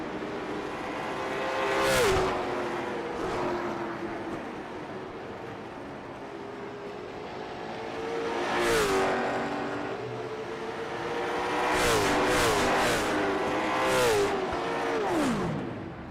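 Stock race cars lapping Thompson Speedway, engines rising and falling as several cars roar past in waves, each pass swelling then fading, fairly close and continuous with no talk.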